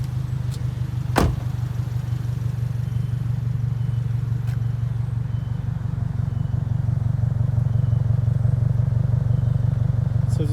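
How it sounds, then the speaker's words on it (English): A Subaru WRX engine with a single exit exhaust idles steadily close by, a continuous low rumble running the whole time, with a sharp knock near the start. "So let's see how this sounds with this exhaust."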